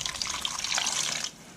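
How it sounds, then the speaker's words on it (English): Water runs steadily from a tap into a pot for pea and ham soup, a continuous close splashing rush lasting just over a second before it cuts off, with no voices. "all we've got to do now is just add some water."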